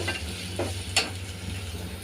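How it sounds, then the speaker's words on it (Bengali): Ginger, garlic and onion fry in oil in a pan with a low, steady sizzle, broken by a few brief scraping stirs of a spoon at close range. "তো বন্ধুরা আদা রসুন পেঁয়াজ একটু লাল লাল করে ভেজে নিলাম।"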